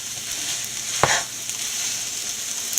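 Bread bonda, a rotti-wrapped filled snack, frying in hot oil: a steady bright sizzle and hiss throughout, with one sharp clatter or stir near the middle.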